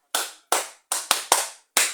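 Six loud, sharp claps spaced irregularly, each ringing out with a long reverberant tail, answering a call to applaud at a lively event.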